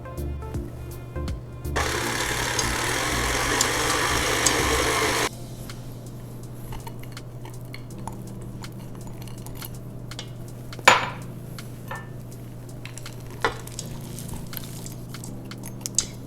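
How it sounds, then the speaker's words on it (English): A stand mixer fitted with a cookie paddle whirls vegan cookie dough made from an ancient grain cookie mix, a loud steady mechanical whir running for a few seconds before cutting off, followed by quieter clinks and kitchen handling. "we're using a cookie paddle, and we're going to whirl this up, get it nice and combined"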